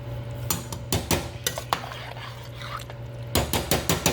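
Metal utensil scraping and clanking against a pot while stirring a Cajun chicken, sausage and shrimp pasta over medium heat, with a steady low hum from the stove beneath and bursts of sharp knocks.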